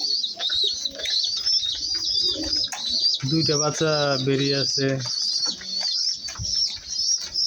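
Pigeons coo softly and flap near their chicks during feeding, with low throaty coos and bird chatter running under someone speaking close by.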